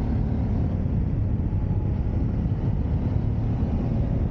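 A 2019 BMW 750 GS motorcycle rumbles while being ridden, a loud continuous low engine drone mixed with rushing wind noise, steady throughout with no talking.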